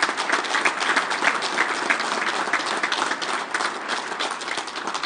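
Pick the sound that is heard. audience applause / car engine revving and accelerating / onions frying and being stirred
audience applause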